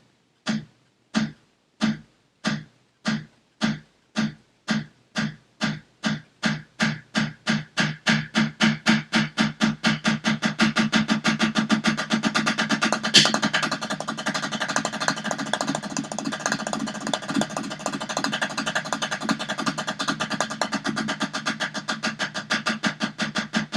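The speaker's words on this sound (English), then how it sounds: "And that's the double stroke roll." A double stroke roll rudiment on a drum, starting as slow, evenly spaced paired hits that steadily accelerate into a dense, continuous buzzing roll, crisp and close with no voices.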